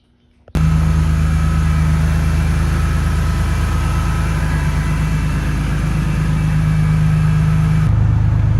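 A BMW E36 with an S54 engine, recently fitted with a new oil cooler, cranks and catches after a short quiet moment, then settles into a loud, steady idle up close with a deep rumble and no talking.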